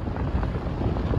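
Desert wind near the Saudi Arabian border gusts steadily across an open campsite, a constant low roar and buffeting rumble close to the microphone with no voices.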